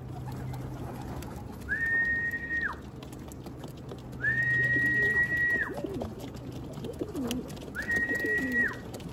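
Three drawn-out, steady coos sound at regular intervals over a low hum of background noise, close and moderately loud, from racing pigeons.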